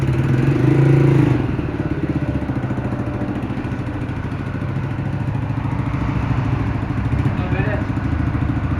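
Honda CG 125 motorcycle engine idling with a rapid, rough exhaust putter, close and steady, with a brief rev at the start and people talking over it.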